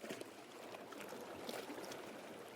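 Calm Atlantic Ocean water laps gently under sunshine, a soft, steady wash of small splashes and trickles heard faintly throughout.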